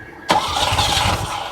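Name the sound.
1979 Ferrari 308 engine cranking and starting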